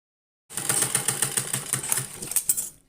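Sewing machine stitching a waistband belt onto pleated palazzo trousers, a steady rapid mechanical rattle of needle strokes with slight pulsing, close and fairly loud, starting after a brief silence.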